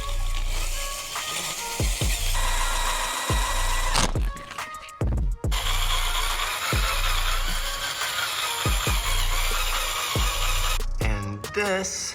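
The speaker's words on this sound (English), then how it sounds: "So we have to drill off the head" A power drill boring the head off a bolt on a Triumph Speed Triple motorcycle's triple tree, whining in repeated bursts with short pauses and clicks between them, close and loud.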